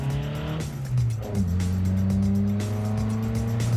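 A rebuilt 350 V8 runs in a mini truck, a loud steady close-up engine drone with rising and falling revs and strong low harmonics, no voices.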